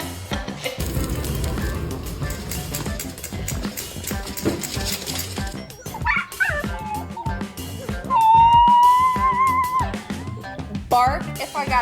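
A dog yips, whimpers and gives a drawn-out howl among short barks, close and loud, with a person talking in between.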